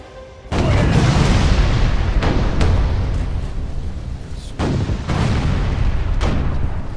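Ship cannons boom in a naval battle game, several heavy blasts landing a second or two apart, each with a loud attack and a long rumbling tail, with no talking over them.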